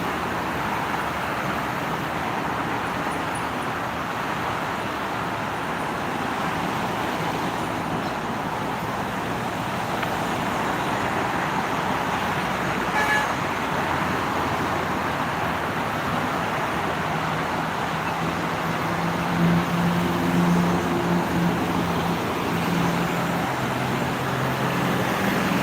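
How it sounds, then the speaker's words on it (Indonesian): Heavy traffic of big trucks and buses on the Jakarta-bound lanes of the Japek toll road makes a continuous broad roar, steady and moderately loud, with no voices over it. "Yang mengarah ke Jakarta sebelah kiri ramai sama kendaraan besar sama bus,"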